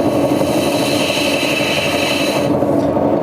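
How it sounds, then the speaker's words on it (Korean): A plaster mold is shaved by hand against a profile for slip casting, with loud, continuous close-up scraping and rasping that drops off sharply toward the end. "그래서 밑에 바닥을 청소를 하고 정확하게 깎아보도록 하겠습니다"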